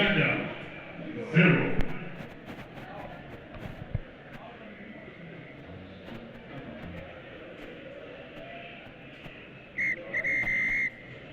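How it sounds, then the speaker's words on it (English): Crowd noise and commentary rumble along at a Kenya versus Uganda women's rugby match, then the referee's final whistle sounds near the end, a sharp sustained blast cutting through the stadium din. "Final whistle is gone."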